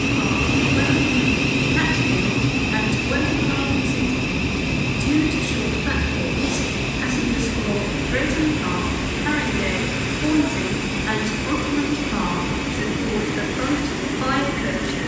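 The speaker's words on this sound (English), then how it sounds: "You'll see the train come in just a second." A London Underground train rumbles and hisses continuously as it pulls into Old Street station, with faint brakes squealing, a loud steady drone throughout.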